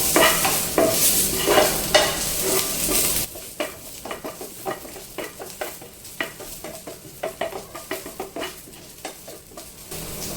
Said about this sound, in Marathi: लसणाच्या पाकळ्या घालायच्या, त्याही थोड्याशा आपल्याला भाजून घ्यायच्या तेलामध्ये